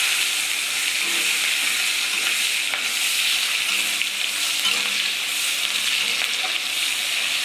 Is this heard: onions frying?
yes